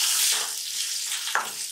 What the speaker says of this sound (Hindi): अब हम इसमें डालेंगे थोड़ी सी कटी हुई अदरक